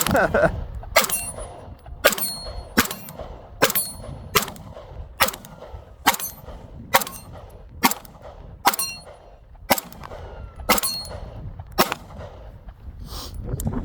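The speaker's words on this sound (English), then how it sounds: "See if I can hit the first shot with that double action trigger pull." A Sig P226 MK25 pistol fired at a range, the first shot on a double action trigger pull: about a dozen sharp, loud reports at a steady pace roughly a second apart, with faint background noise between shots.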